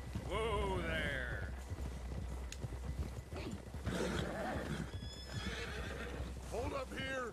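A horse in Red Dead Redemption 2 whinnies loudly early on, with steady hoof clip-clops running throughout and background game voices.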